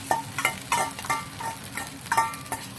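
Egg fried rice is tossed and stirred in a pan as the rest of the beaten egg goes in, producing rhythmic spatula scrapes and clinks every half second or so over a soft underlying sizzle.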